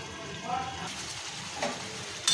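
Hilsa fish in a mustard sauce roasts in oil in a pan at home, giving a soft, steady sizzle with occasional louder spits and bubbling, close and fairly quiet.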